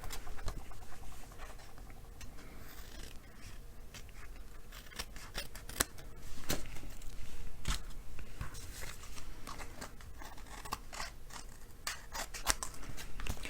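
Scissors trim excess patterned paper from a craft tag, with rapid close snips and paper rustling running continuously, some cuts sharper and louder than others.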